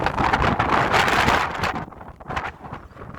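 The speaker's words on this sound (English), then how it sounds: "Very windy here." Gusty wind buffets the microphone with a loud, rumbling roar that eases slightly partway through, with no voices.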